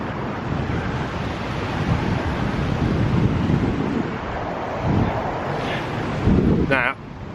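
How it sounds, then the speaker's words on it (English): Gusty outdoor wind buffeting a microphone, a continuous low rumble that swells and surges in bursts, with a brief higher scraping noise near the end. "I'm really sorry about the wind"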